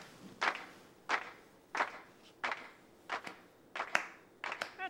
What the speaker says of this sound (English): Okay, just the claps.